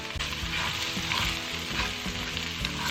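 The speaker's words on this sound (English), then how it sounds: "Now we are going to add in our garlic, and we're going to cook that for 1 minute." Garlic sizzling loudly in a pot while a steak pie filling cooks, a dense, continuous crackle with occasional stirring knocks and no voices.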